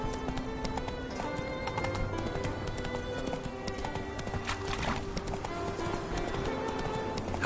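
A horse gallops in The Witcher 3: Wild Hunt, with rapid, continuous hoofbeats and clip-clop over a dense game soundscape. Faint speech sits in the background.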